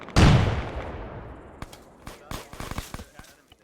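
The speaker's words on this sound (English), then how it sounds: "I think that was our nade." A grenade detonates close and loud in a military shooter game, a heavy blast that decays into a long rumble, followed by scattered crackling gunshots and impacts.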